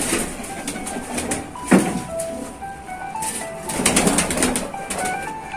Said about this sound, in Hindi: बहुत ही बड़े बजूर के कबूतर